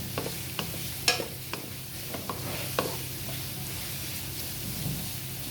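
Garlic frying in a pan, a soft steady sizzle with sharp scraping stirring clicks, close and fairly quiet; no voices.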